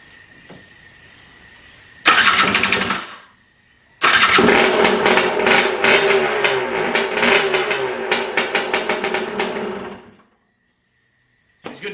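KTM motorcycle engine starting: a short first crank burst, a pause, then the engine catches and runs with a loud, rapid, throbbing idle for several seconds before cutting off.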